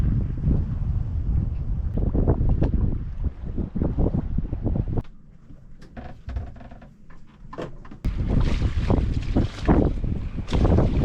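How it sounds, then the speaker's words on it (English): Loud gusty southerly wind buffets the microphone aboard a sailboat at sea, dropping briefly to a calmer stretch with creaks before roaring back. "we've got a bit of southerly wind right now"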